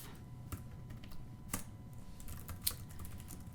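Keys clatter on a computer keyboard in quick uneven bursts of soft clicks, faint and close in an otherwise quiet room.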